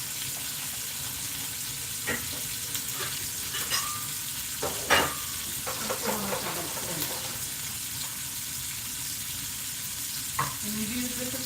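Onions sautéing in an Instant Pot for a pot roast, a steady soft sizzle running throughout with occasional stirring clatters and scrapes, close and moderately loud with no talking.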